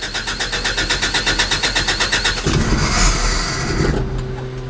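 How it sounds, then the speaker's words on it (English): Datsun 620 truck engine cranking with a fast rhythmic chug, then catching and revving up under throttle before settling into a steady idle, loud and close with no talking. "give it some throttle."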